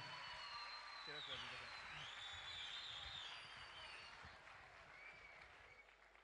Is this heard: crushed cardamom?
no